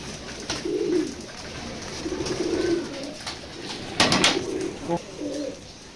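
Racing pigeons in a rooftop loft coo in soft, repeated low phrases from fairly close by. Wing flutters and small rustles break in now and then, with no talking.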